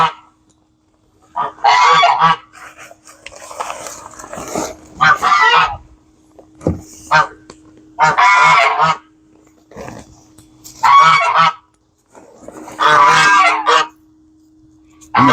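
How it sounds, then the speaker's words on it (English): Loud geese honk close by in repeated bursts, with quieter calls and rustling in the pauses between them. "These geese, they will attack you."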